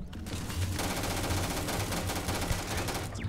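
A turret in Starfield fires a dense, unbroken burst of rapid automatic gunfire, loud and steady for the whole stretch.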